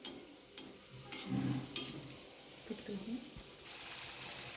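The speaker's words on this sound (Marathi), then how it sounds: "याचप्रमाणे आपण सर्व मोदक तळून घेऊया" Modak dumplings frying in moderately hot oil, a soft steady sizzle with stirring and light liquid movement, with a voice talking over it at moments.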